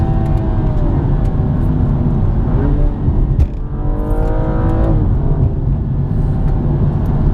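A 3-litre 2016 BMW M235i in Sport Plus mode accelerates hard, its engine loud and close, climbing through the revs, with a brief dip near the middle as it shifts before pulling strongly again.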